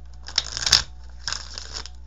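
Crisp papery riffling in two short bursts, a louder flurry near the start and a softer one after a pause, close and fairly quiet.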